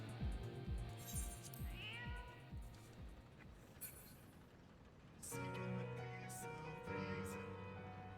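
A cat meows in a Final Fantasy XIV 6.55 game session, a brief call heard over game music and effects.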